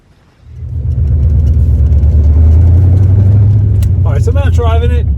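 C4 Corvette on coilovers driving on a road, its engine rising from quiet to a loud, steady rumble close by, with a voice talking briefly near the end.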